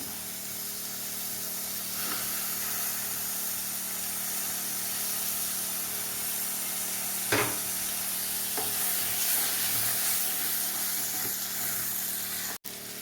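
Coconut pieces, Chinese potato and chicken fry in oil in a pan with a steady close sizzle and hiss, interrupted now and then by brief stirring clinks and scrapes.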